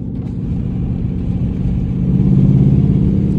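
Dodge Charger R/T with a flame-tuned 5.7 V8, driven on a highway, gives a steady deep engine drone and road rumble that swells louder toward the end as it accelerates, no talk.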